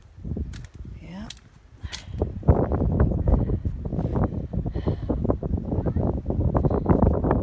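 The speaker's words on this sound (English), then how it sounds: "It's rather windy" Gusty wind at a replica WWI trench in Ipswich, UK, blustering against the microphone, with a few sharp knocks early on and a steady rushing roar growing louder.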